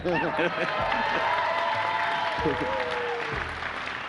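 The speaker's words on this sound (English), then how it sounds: "You can clap if you'd like." An audience at the Borderlands 3 worldwide reveal event applauds in a steady, dense wash of clapping that runs throughout, mixed with a speaking voice and tonal game sounds.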